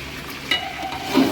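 Masala powder frying in oil in a pan for Malaysian Tamil-style chicken dum biryani, cooked before the ginger-garlic goes in; a soft, steady sizzle with a little stirring, swelling slightly near the end, no talk.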